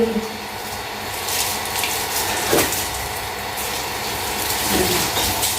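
Water runs steadily from a tap, a continuous hiss with a couple of brief splashes or knocks partway through.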